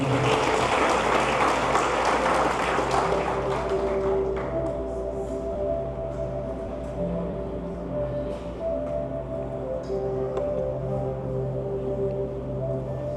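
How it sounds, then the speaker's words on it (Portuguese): Congregation applauding during a church service: a dense burst of clapping that thins out after a few seconds, leaving sustained keyboard or organ tones playing on alone. "Você pode aplaudir o Senhor, se coloca de pé."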